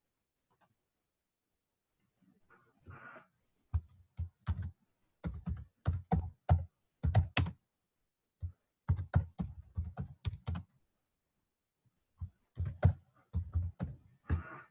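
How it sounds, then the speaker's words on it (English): Keystrokes on a computer keyboard, close and clear, typed in short bursts of rapid clicks separated by pauses, against a quiet background. "I'm going to type in Tamika's Tanning Salon"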